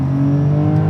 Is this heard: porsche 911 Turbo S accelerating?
yes